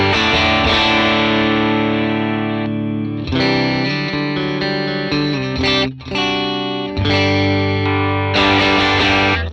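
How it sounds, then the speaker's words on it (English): A bass played through an Axe-FX III in stereo, with an AC30 amp model on one side and a Chieftain model on the other, rings out loud and distorted as sustained notes and chords with brief breaks between phrases. "So here is the bass tone. This is stereo AC30 left,"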